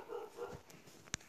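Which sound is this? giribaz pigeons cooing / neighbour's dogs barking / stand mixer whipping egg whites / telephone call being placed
neighbour's dogs barking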